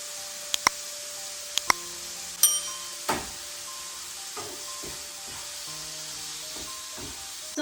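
Whole garam masala and pepper powder frying in hot oil in a pan for an egg roll, a faint steady sizzle with a few sharp clicks and clatters of utensils and a brief stirring scrape.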